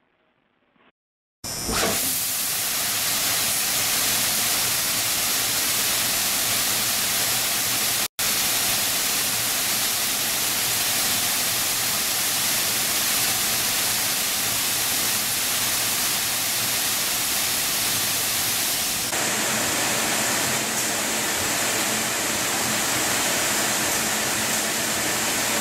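Electrovert Aquastorm industrial cleaner pumps, delivering up to 178 gallons per minute at 95 PSI through seamless welded stainless steel plumbing, kick in abruptly after a brief quiet moment and then spray water as a loud, steady hiss that runs on without a break.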